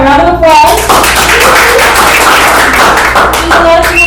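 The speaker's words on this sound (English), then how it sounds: "Let's give her a round of applause" Loud, sustained round of applause from an office audience at a real estate market center, dense close clapping with voices and cheers mixed in throughout.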